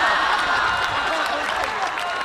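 Audience applause at a Hindi kavi sammelan poetry recital: dense, continuous clapping from a large crowd that fills the whole moment at an even level.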